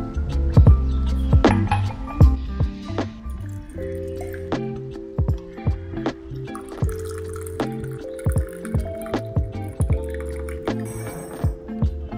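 Boiled water poured for jasmine tea, with repeated drips, splashes and clinks of liquid against a cup or pot, close and fairly loud, arriving in irregular bursts with no talking.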